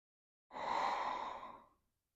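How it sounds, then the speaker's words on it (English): A single deep breath during a yoga practice, heard as one long, steady, airy exhale lasting just over a second, close and clear against silence. "2 more deep breaths."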